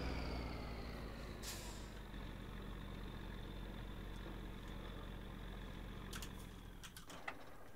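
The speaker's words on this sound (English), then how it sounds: "I can hear the green car." Engine of a green car in the game My Summer Car, a steady low rumbling drone with a hissing, air-brake-like burst early on and a few sharp clicks near the end, heard alone with no talk.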